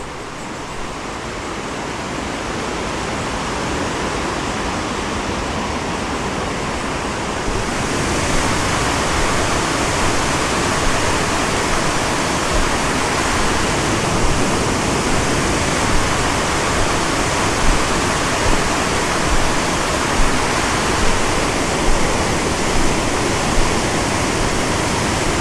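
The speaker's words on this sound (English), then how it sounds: "as a reward the Ohio Edison Dam stretches out before me." Water pours over the Ohio Edison Dam on the Cuyahoga River in Gorge Metro Park as a powerful, unbroken roar heard from a nearby viewing platform, growing slightly louder partway through.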